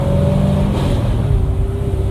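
A car engine revving and growling aggressively, steady and loud, with a rising then falling engine tone across a couple of seconds, heard close without talking.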